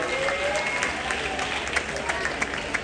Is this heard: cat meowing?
no